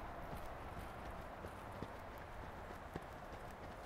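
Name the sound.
horse hooves trotting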